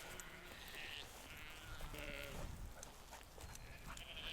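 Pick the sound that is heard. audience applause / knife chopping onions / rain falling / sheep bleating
sheep bleating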